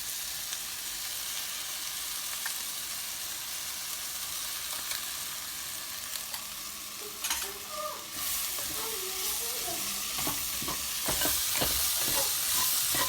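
Vegetable stew with a spoonful of maida sizzling in a pan for a Kerala-style curry, with a steady hiss of frying and then a run of close scraping and clinking as a spoon stirs it well.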